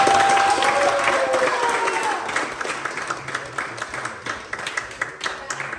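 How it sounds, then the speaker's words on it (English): A sumo experience audience breaks into applause, with a dense wash of clapping and crowd murmur that starts loud and gradually thins into scattered individual claps, while a voice speaks briefly at the beginning. "let's give them a big round of applause"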